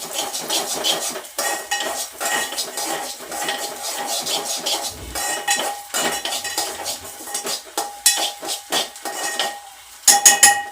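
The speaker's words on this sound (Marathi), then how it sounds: "तांदूळ तुपामध्ये व्यवस्थित भाजून घ्यायचे" Rice grains being roasted in ghee in a metal pan, with steady scraping and clinking of a spoon against the pan throughout, continuous and close, with sharper clatters near the end.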